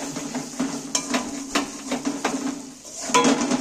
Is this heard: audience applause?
no